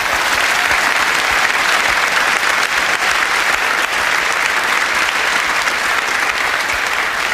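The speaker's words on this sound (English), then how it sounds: "please give him a round of applause because David Wells has come back in." A live television studio audience applauds at a Halloween ghost-hunting broadcast from Pendle Hill, a loud, dense, continuous wash of clapping that holds evenly for over seven seconds without talk.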